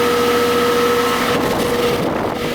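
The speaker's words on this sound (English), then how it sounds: "I don't think the compressor's running, it's just the fan." A Goodman central air conditioning unit runs with only its fan turning and the compressor off, a loud steady whooshing drone with a faint tonal hum, continuous and close, without speech.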